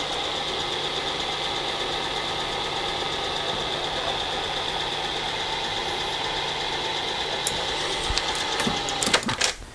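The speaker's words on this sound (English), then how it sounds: "we're gonna continue reaming the rest of these holes out" A reamer works through pre-drilled holes in steel box tubing for a Wright roller kit build, giving a steady, continuous high whine from a power drill held close, ending in a few sharp clicks and scrapes.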